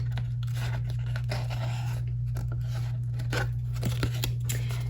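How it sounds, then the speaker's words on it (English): A small piece for a mini bookcase key chain is cut out by hand, giving irregular crisp snips and crinkly tearing over a steady low electrical hum. "You're going to cut out this piece."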